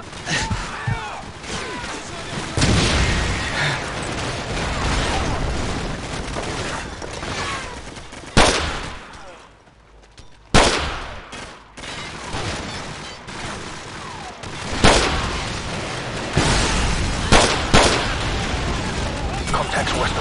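Dense gunfire and artillery blasts from a Call of Duty 4: Modern Warfare battle, with sustained bursts and loud booms, a brief lull in the middle, and voices calling out over the shooting.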